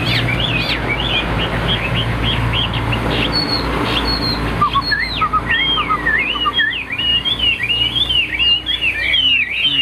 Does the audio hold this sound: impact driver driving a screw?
no